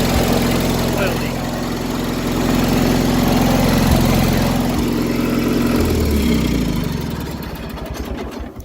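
A small, cheap tractor engine runs steadily after a rear main seal replacement, a loud, close, droning idle with a rough mechanical rattle that holds for several seconds, then slows and winds down toward the end.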